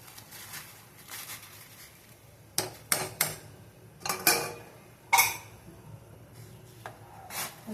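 Boiled sweet corn being stirred into soup in a pot, a spoon scraping and knocking against the pot in several sharp, irregular strokes over a quiet simmer.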